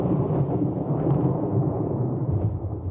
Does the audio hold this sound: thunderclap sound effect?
yes